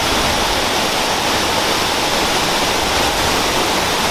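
A waterfall pours in a dense, steady rush of falling water, loud and unbroken throughout with no voices over it.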